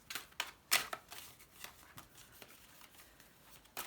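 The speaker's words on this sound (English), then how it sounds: "I have to be careful with my shuffling because of the old carpal tunnel, so I love a riffle shuffle personally" Tarot cards are riffle shuffled, giving quiet, crisp bursts of fluttering card clicks with a sharp snap near the start and a few more riffles after, close and soft, with no talk.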